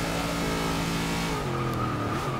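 Race car in Forza 6 braking hard late into a corner, a steady engine drone with tires squealing and scrubbing, dropping in pitch through the short stretch.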